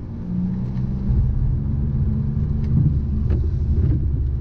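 Audi RS4 engine carries through an open window as a continuous low rumble with mild surges and swells, no talk over it.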